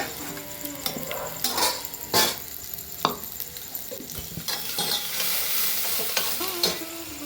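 Steady sizzling of onions and tomato frying in a pan for vegetable kurma, with occasional stirring scrapes and clinks of a utensil against the pan.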